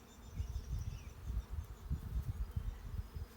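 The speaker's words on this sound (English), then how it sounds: "So a lot of these bees are nurse bees who are looking after the young." Honey bees buzz at a hive busy with nurse bees and pollen foragers ahead of a nectar flow, a low, steady, pulsing hum heard close with no talking.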